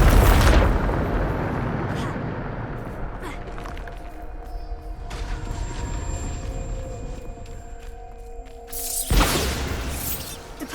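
A Bombarda explosion spell goes off in the Hogwarts Legacy video game as a loud, deep booming blast, followed by a rumbling tail of game effects and a second burst near the end.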